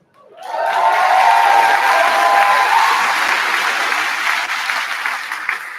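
A graduation audience at CFHS bursts into loud, dense applause that swells quickly and holds steady, with some cheering mixed in near the start and a slight fade toward the end.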